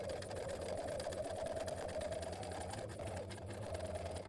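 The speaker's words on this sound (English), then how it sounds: "Now we're set and we can sew along here." A sewing machine sews a seam along a sweater being turned into a zippered cardigan, running in one continuous, steady, close whirr throughout.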